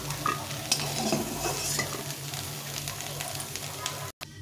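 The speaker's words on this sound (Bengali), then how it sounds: "ফুলকপিটা ভাজা হয়ে গেছে, একটু লাল লাল করে ভেজে নিয়েছি।" Cauliflower pieces fry in a pan until browned, with a continuous sizzle under frequent stirring and scraping. The sound cuts out briefly at the very end.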